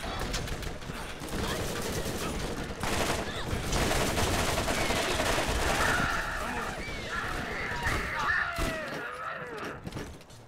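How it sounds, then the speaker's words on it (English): Automated turret fire in the video game Borderlands, dense rapid bursts of gunfire running almost continuously and loud, with muffled game effects mixed in. "Turret's busy shooting at me."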